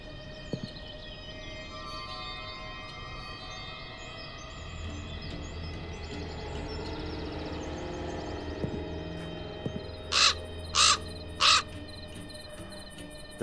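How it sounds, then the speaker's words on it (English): Raven in a video game, three loud, evenly spaced caws near the end over a low steady ambient hum, with faint rustling before them. "The raven flew out of a crack in the rock."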